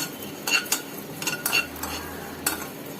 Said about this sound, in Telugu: మంచి స్మెల్ వచ్చేదాకా వేయించుకోవాలి.